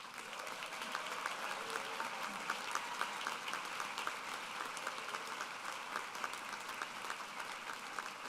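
A large audience applauds honors scholar graduates at a university commencement ceremony, steady, dense clapping from a distant hall that holds evenly throughout without talk.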